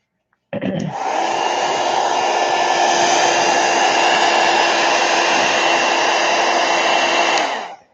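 A hair dryer blows steadily to dry gesso and acrylic paint, a loud continuous whoosh that starts abruptly and runs unbroken for about seven seconds before cutting off.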